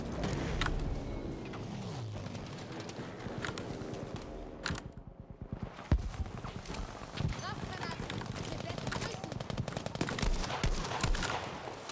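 Machine gun fire from a tank in the video game Battlefield V, sounding as rapid bursts of shots mixed with other gunfire and battle noise, fairly loud and continuous, with a voice talking over it.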